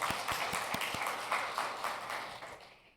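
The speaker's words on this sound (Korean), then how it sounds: "하나님께 영광의 박수 올려드립니다" A church congregation at a Sunday afternoon praise service gives a short burst of applause, the clapping close and fairly loud at first, then thinning out over a few seconds.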